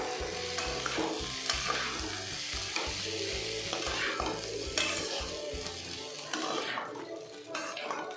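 Ground masala paste stirred into beans in a frying pan, a steady scraping of spoon against metal over a continuous sizzle, with rhythmic knocks of the pan throughout and no talking.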